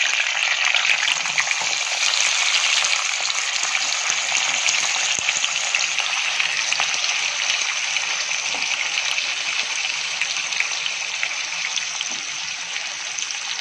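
Curry leaves sizzle in hot oil at the start of a chicken fry, a steady, dense hiss that runs unbroken and fairly close throughout, easing slightly toward the end, with no voices.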